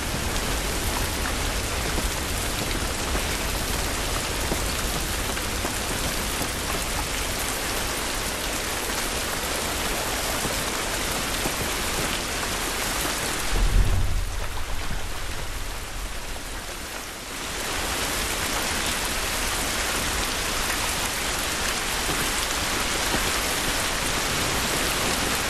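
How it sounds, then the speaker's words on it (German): Steady heavy rain pours in The Last of Us on PS5, a dense constant hiss that briefly drops away with a low thump midway before returning just as strong. "Dieser Regen ist nicht gut für uns."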